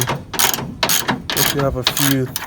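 A bolt is threaded in by hand tool to mount a tow hitch on a 2005–2015 Toyota Tacoma standard cab, giving loud, close ratcheting clicks in several short bursts with brief pauses between them.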